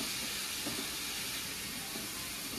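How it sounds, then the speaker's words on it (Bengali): Sliced snake gourd sizzles in hot oil in a pan, giving a loud, steady, close hiss that holds without a break. "তেলের মধ্যে সব চিচিঙ্গাটাই দিয়ে দিলাম"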